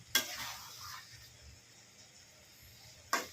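Egg chilli being stirred in a frying pan, a soft continuous sizzle with two sharp scraping clinks of the spatula at the start and end, no voices.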